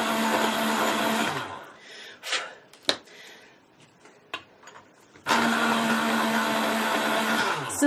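An electric sharpener whirs loudly as Prismacolor colored pencils, including a sunburst yellow, are ground to a point, in two sustained bursts separated by a quieter stretch of small clicks and handling noises.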